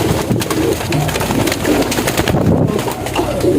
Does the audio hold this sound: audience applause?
no